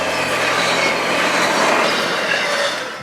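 A train rolls past close by, a loud continuous rumble of wheels and railcars with metallic squeal and clatter that fades slightly at the end.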